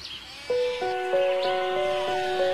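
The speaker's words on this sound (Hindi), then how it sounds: "ये बकरी तो बूढ़ी हो गई है।" An old goat bleats in a few wavering calls over a steady tonal background, fairly close and clear, with no talking.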